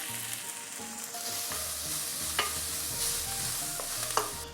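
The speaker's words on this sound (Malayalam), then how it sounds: "ഈ സമയം നമ്മളിതിലേക്ക് ഒരു അത്യാവശ്യം വലിയ സവാള സ്ലൈസ് ചെയ്തിട്ട് കൊടുക്കണ്ടേ." A large sliced onion fries with green chillies and plenty of curry leaves for Angamaly-style pork, a soft, steady sizzle with occasional stirring clinks and scrapes of the spoon against the pan.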